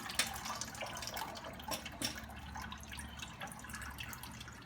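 Water is drained off freshly blanched food, producing a soft, faint trickle with scattered drips and light splashes.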